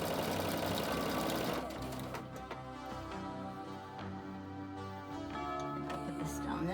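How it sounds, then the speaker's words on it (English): A sewing machine back stitching along scrappy quilt binding, its rapid mechanical ticking and humming running steadily and close throughout, pausing briefly partway through as the stitch direction changes. "I'm going to back stitch a little bit just to lock that in"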